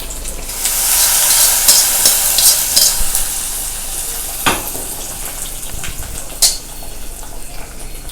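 Green chillies, hot chillies and ginger sauté loudly in a pan, making a dense continuous sizzle with bursts of stirring and scraping and a couple of sharper metallic knocks, with no one talking.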